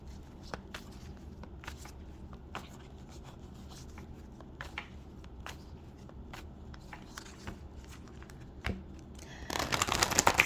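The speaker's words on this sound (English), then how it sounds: "These cards needed a lot of shuffling for some reason." Tarot cards being shuffled by hand, with soft riffling and scattered sharp flicks and snaps throughout, then a dense burst of rapid shuffling toward the end, close and fairly quiet.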